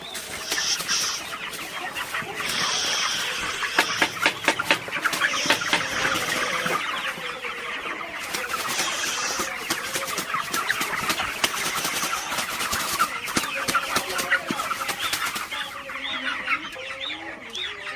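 Broiler chickens cluck and chatter continuously in a dense flock, many overlapping calls close by with no talk over them.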